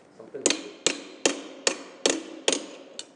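A wrench taps repeatedly on a stuck Segway part, giving seven sharp metallic knocks in a steady, fairly quick rhythm, close and clear with short ringing decay.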